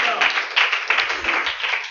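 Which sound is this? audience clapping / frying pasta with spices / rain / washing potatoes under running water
audience clapping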